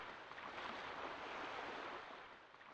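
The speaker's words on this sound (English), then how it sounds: "It's just atmospheric sounds of water hitting the shore." Soft, steady wash of water lapping against a shore on the Yoshi's Island title screen, with no music, a faint, even surf hiss that swells gently and fades slightly at the end.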